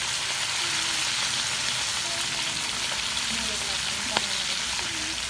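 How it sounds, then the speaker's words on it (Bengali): Bata fish frying in a hot pan gives a steady, dense sizzle that runs unbroken throughout, with a faint clink near the end. "এখানে মাছ ভাজা হচ্ছে"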